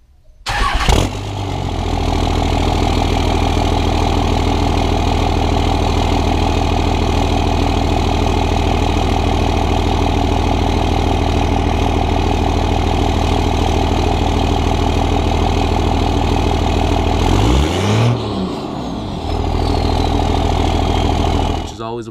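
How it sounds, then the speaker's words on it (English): A Cummins diesel pickup with a 5-inch Diamond Eye straight-from-the-turbo exhaust starts and settles into a loud, steady, deep idle close by, with a brief rev-like change near the end. "It is a 5-inch straight from the turbo exhaust, and it is right here."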